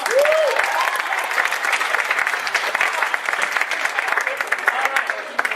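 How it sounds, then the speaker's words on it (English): Audience applause at a live battle-of-the-sexes game show, steady dense clapping throughout with a brief vocal whoop near the start, close and fairly loud. "Round of applause for Soma."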